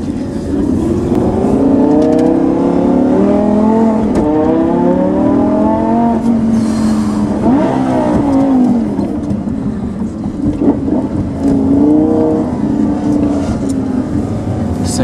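A 2011 Lamborghini LP570-4 Superleggera in Corsa mode roars under hard acceleration, loud engine tones rising in steady sweeps through quick shifts, heard from inside the cabin with some talk over it.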